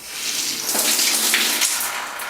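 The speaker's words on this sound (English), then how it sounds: "so I'm going to turn on the water," Hot and cold taps opened together in a flood-damaged St. Petersburg, Florida home, water gushing with a hissy, spluttering rush that surges and pulses as trapped air clears, close and fairly loud.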